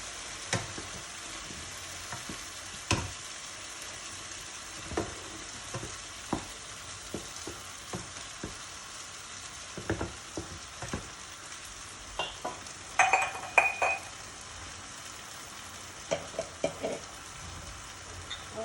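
Prawn biryani gravy simmers in a pan with a steady soft sizzle, punctuated by scattered scraping clicks of a spoon stirring against the pan, close and quiet throughout.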